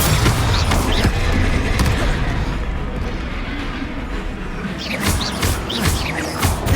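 Confringo blasting-spell explosions in the Hogwarts Legacy video game: a dense, continuous barrage of booming blasts and crashing impacts at steady loudness, with a cluster of sharper bursts near the end.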